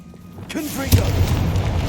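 A Confringo fire spell bursts in Hogwarts Legacy, a single deep boom inside an old hall, loud and close, with a short rumbling tail and a spoken incantation just before.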